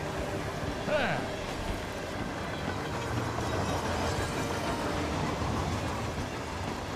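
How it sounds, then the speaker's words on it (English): A train rolls along rails in the Hitman 3 video game, a steady, dense rumble with faint rhythmic clatter that holds loud and unbroken throughout, with no voices. "look at me on the choo-choo train"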